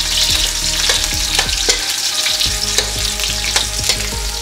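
Onions and shallots sizzle steadily in a hot pan for Filipino adobo, a dense continuous frying hiss broken by repeated clacks of a utensil stirring the mixture, close and fairly loud with no talking.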